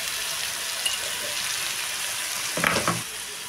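Food frying in a pan while being stirred for chicken biryani, a steady close sizzle throughout with a brief louder clatter of stirring near the end; no voices.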